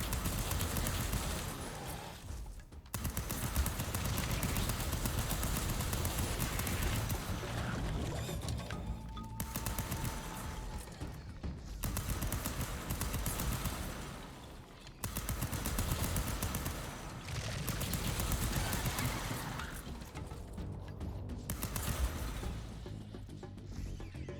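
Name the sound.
assault rifle gunfire in video game Fury Unleashed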